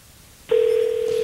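An internet phone call starts ringing: a single clean, steady electronic tone switches on abruptly and holds, loud and close, after a quiet lead-in.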